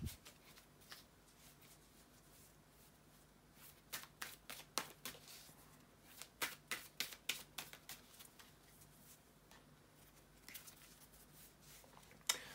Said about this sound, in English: here to shuffle the tarot cards, and we will be ready to jump right into it